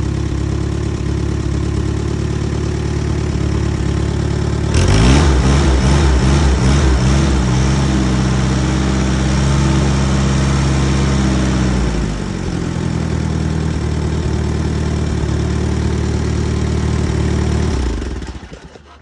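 An Allis Chalmers D-14 tractor engine idles steadily and loudly up close on a chilly day, its choke not fully in, with a brief rougher surge partway through before it settles and cuts off near the end.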